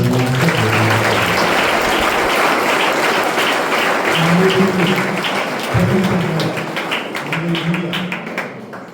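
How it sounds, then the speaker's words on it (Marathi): A crowd claps steadily for several seconds at a youth retreat gathering, with low voices or music faintly underneath. "आपण टाळ्या वाजव"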